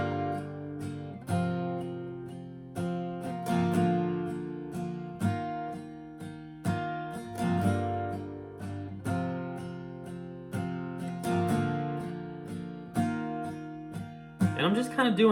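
Acoustic guitar strummed softly with a pick in a steady repeating rhythm for a song, even chord strokes recurring about every second, close and alone without talk.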